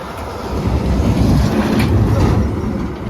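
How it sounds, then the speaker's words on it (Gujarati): A large train rolls past a closed railway crossing, its loud steady rumble and wheel clatter filling the scene up close for about three seconds with no talk. "ગાઈસ તો અહીંયા કને ફાટક બંધ છે હવે. ટ્રેન આવી ગયા લો મોટી."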